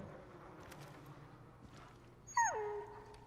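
A dog in Far Cry New Dawn lets out a short high-pitched whimper that slides downward, standing out clearly over a quiet ambient game background near the end.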